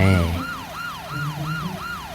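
Police car siren in the Roblox video game, wailing in repeated rising and falling sweeps about every quarter second, loud and close over a low engine hum, following a brief low tone at the start.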